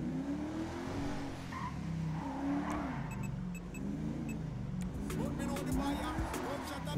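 A tuned car driving in GTA V Online, engine revving and rising and falling in pitch with some tire squeal, moderately loud, with someone talking over it.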